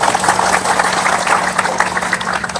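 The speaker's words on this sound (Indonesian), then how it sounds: "tepuk tangan ya saudara." Church congregation clapping during a lively sermon, a sustained, fairly loud patter of many hands with a low hum underneath.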